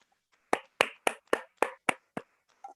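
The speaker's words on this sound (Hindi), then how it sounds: "बहुत जोरदार तालियां होनी चाहिए श्रीवास्तव जी के लिए।" Hand claps at a business plan meeting, about seven sharp, evenly spaced claps in quick succession, close and distinct, more like one or two people than a full crowd, with near-silence around them.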